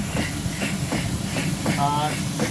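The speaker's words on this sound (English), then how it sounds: "The drain cock to drain the water out of the steam chest." Steady steam hiss from the open drain cocks of a full-size 1870s locomotive replica during a fall steam-up, with rhythmic puffing surges and a brief tonal squeal, heard under a man's speech.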